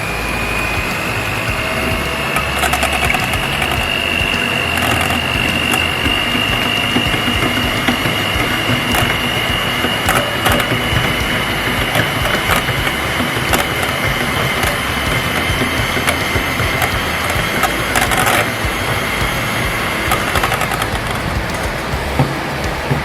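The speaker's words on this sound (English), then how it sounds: "using mixer" Electric hand mixer whirring steadily through waffle batter for crispy waffles, a continuous loud motor drone with a high tonal whine held throughout, no talking.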